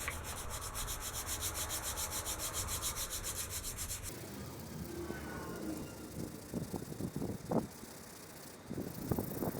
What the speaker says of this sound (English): So I'm going to sand on it for a bit